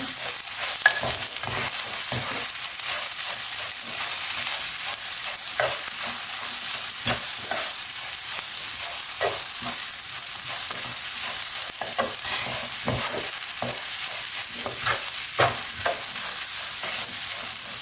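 A spoon steadily stirs yaprak sarma stuffing in a frying pan, repeated scraping strokes over a continuous loud sizzle of hot oil, close and with no voices.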